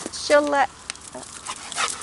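A small dog gives a short whining bark followed by quick panting and snuffling, close by, with people talking around it.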